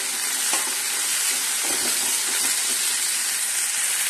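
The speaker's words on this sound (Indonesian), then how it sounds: "Ini cuma ditumis sebentar, sekitar 5 menit dengan api yang kecil" Boiled vegetables being sautéed over low heat in a pan with a little salt, giving a steady close sizzle and hiss with a few soft scraping stir strokes, no voices.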